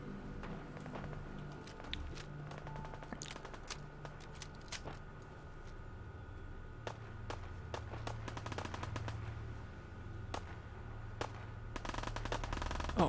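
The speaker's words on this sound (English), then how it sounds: "Yep, they're shooting from up there." Video game gunfire in Fallout 4, with rapid cracks and bursts of shots from enemies firing from above, steady over a continuous in-game hum and ambient background.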